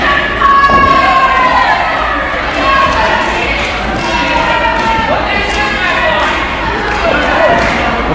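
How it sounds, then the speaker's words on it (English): Wrestling event crowd in an arena, a dense, loud wall of voices with rhythmic chanting and shouts running continuously throughout. "the crowd's starting to chant PME already for the Philly and Marino experience"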